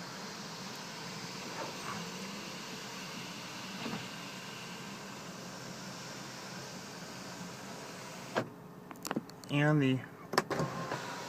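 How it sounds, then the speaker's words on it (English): The electronic headliner and sunroof of a 2008 BMW X3 operate inside the cabin, with a quiet steady motor whir under faint background hiss, then a short louder mechanical whine near the end, with brief speech in between. "We'll now operate the electronic headliner and sunroof."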